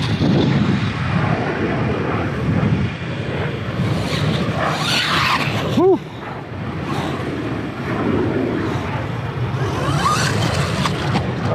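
An MJX Hyper Go 14210 RC car runs at throttle outdoors, its motor whine and rough surface noise loud and continuous, with a brief sharp swooping burst partway through.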